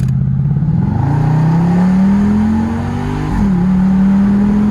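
An SRT Jeep SUV engine revs steadily while accelerating, its pitch climbing and holding, dipping briefly before rising again, loud and close with no talking.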